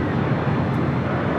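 A WestJet Boeing 737-800 airliner at Los Angeles International Airport gives a steady, loud broadband jet engine roar that holds evenly throughout the short stretch, with no voices.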